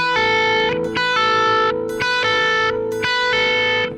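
An electric guitar played through a distortion effect, picking out repeated pull-off phrases in four similar bursts of sustained, buzzy notes that each end in a short dip.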